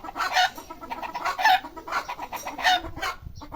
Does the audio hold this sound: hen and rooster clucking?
yes